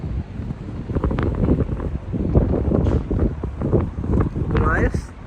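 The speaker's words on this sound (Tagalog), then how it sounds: "Takas ng hangin kasi." Strong wind buffeting a microphone outdoors in Canada, with rough low rumbling gusts throughout, a voice speaking briefly over it.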